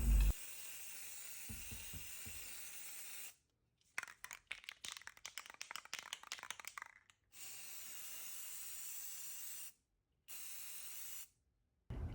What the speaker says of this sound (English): I took it outside and gave it a nice coat of some spray paint